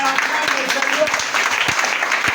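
A church congregation claps steadily through a worship service, a dense, sustained patter of many hands close by, with voices calling out over it.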